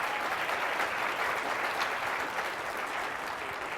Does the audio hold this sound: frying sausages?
no